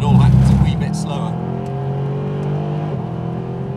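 A Mercedes-AMG SLS supercar with its engine in the front and over 500 horsepower, driving on the road: a loud, steady engine drone with a tonal hum, slightly heavier at the start and holding even.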